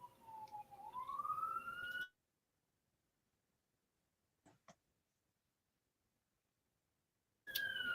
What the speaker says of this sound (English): Uh-oh. Sirens.